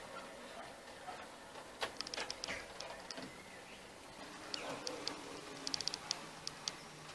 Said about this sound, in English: there's something very satisfying about watching a train trundle around